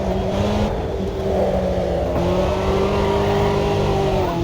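A four-cylinder Volkswagen Passat accelerates nearby with a steady, buzzy engine note that climbs in pitch, loud and continuous, while someone briefly exclaims.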